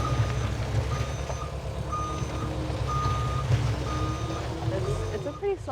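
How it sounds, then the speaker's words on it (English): A heavy flat deck truck with a big steel deck, dragged on its tires down a road by a skid steer, rumbles in a low steady drone. Repeated reversing beeps sound over it, and people speak nearby. "we're dragging the tires while we're going down the road because we can't lift it up anymore because of the weight of the truck"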